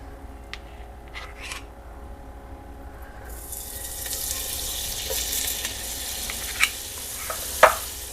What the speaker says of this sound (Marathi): तर ह्यात आपण बटर टाकणार आहोत.